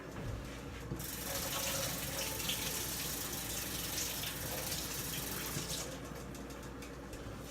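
Tap water runs steadily into a kitchen sink while a sprig of organic rosemary is rinsed under the stream, a soft continuous splashing hiss that holds for several seconds at low volume.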